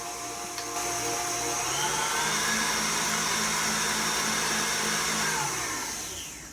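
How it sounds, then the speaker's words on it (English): An electric blender whirs steadily, blending a no-bake vanilla cheesecake mixture; the motor spins up, holds a loud even drone for several seconds, then winds down. "I'm going to blend that up"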